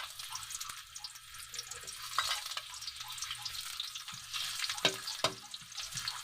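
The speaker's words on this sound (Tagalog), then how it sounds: "So, mag-isa na tayo ng luya." Ginger sautéing in a hot pan, a steady close sizzle with occasional stirring scrapes and light clinks, no voices.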